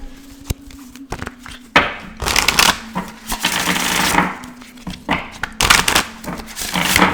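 Tarot cards being shuffled during a reading, with repeated riffling and tapping bursts at close range, fairly quiet and irregular, with no talk over them.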